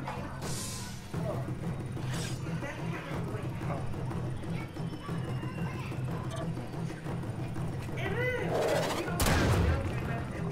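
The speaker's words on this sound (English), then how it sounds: "Oh, this nigga Chris trying to shoot it." Gunfire rattles through combat in the sci-fi video game Warframe, bursts of shots and blasts over a busy game soundtrack, building to a louder flurry of impacts near the end.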